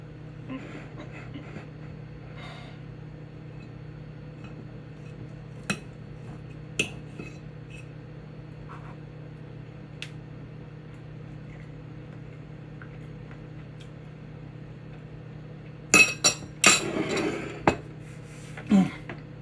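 Fork and knife working on a plate of bacon-wrapped tilapia and chicken fettuccine Alfredo, with sparse faint clinks over a low steady hum and then a burst of louder scraping and clinking toward the end.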